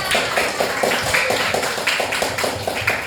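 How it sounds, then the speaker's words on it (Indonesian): Children in a classroom clap together in a steady, rhythmic pattern of repeated claps, loud and close, filling the room with little else beneath. "Tepuk tangan buat kita semua."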